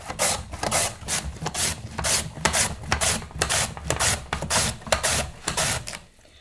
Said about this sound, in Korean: 무채를 채칼을 이용해서 칠 건데요.